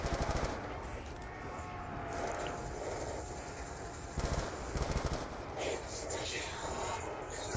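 Rapid bursts of light machine gun fire from an RPD in Call of Duty Black Ops II Zombies on Nuketown, dense repeated shots running nearly continuously with game effects layered in.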